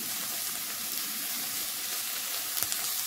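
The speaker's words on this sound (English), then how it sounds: "I stir fry for a minute." Beef, potatoes and green and red bell peppers stir-fry in a hot pan, a loud, unbroken hiss of sizzling close by, with a couple of faint utensil taps near the end.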